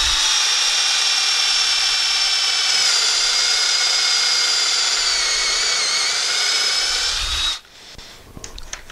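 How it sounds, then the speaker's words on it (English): A cordless drill bores into melamine, giving a loud, close, steady high-pitched whine that holds for about seven seconds and then cuts off abruptly, followed by a few light handling clatters. "And then just drill away"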